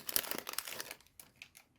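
A small plastic packet from an unboxed parcel is crumpled up close by hand, giving a quick burst of crinkling that fades into a few softer rustles, quiet overall.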